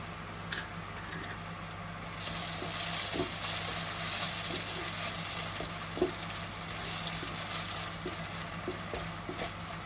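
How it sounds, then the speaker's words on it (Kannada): A ground spice paste for mackerel pulimunchi sizzles and crackles in hot oil in a pan, a steady frying hiss with small pops and occasional stirring clinks, no talking. "ಇದು ಸ್ವಲ್ಪ ಫ್ರೈ ಆಗಲಿ."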